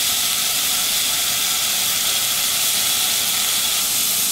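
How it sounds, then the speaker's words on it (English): Chopped bacon sizzles in a preheated iron skillet, a steady, dense hiss that stays loud and even throughout without pause. "I'm just going to cut some off the end and throw it in my skillet to brown."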